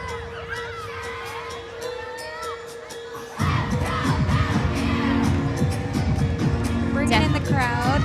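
A crowd erupts into loud cheering and shouting at a college women's gymnastics meet, with Oklahoma competing at West Virginia; the noise swells sharply after a quieter arena murmur, with whoops and yells continuing at close range.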